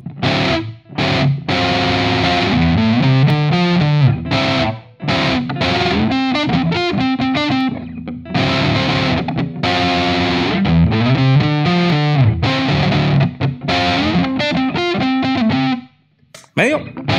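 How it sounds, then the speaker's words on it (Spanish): Electric guitar played through a distortion effect, loud sustained chords and riffs in several phrases separated by brief gaps, with a short pause near the end. "¡Distorsión!"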